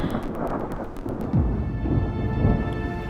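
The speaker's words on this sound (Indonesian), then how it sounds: "mana hujan lagi di luar." Rain falls outside during a storm, a steady patter and hiss with a few sharp drips at first and low rumbling thunder rolling underneath, fairly loud and close, with no talk.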